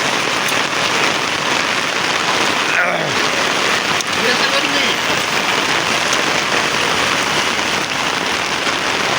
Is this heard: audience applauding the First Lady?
no